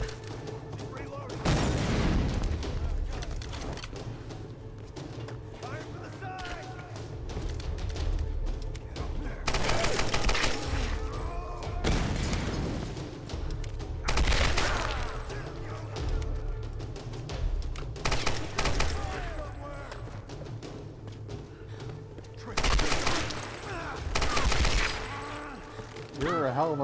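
Bursts of automatic gunfire in Tomb Raider on PS4, several loud volleys spaced through the stretch with dense crackling between them, and speech mixed in underneath.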